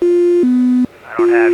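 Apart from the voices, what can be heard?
autopilot disconnect tone in MKIV Cozy airplane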